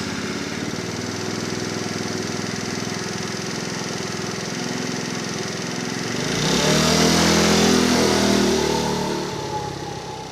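A Livin electric scooter on its first ride gives a steady motor whine and road hum that swells as it speeds up around the middle, then eases off again.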